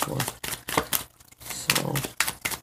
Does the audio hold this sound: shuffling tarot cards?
yes